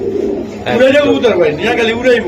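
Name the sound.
pigeons cooing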